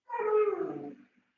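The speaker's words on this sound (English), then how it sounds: "Is that a dog?" A dog's strained, whining bark-howl with a wavering pitch, about one second long, sounding near and fairly loud in a board meeting's open audio, with nobody talking over it.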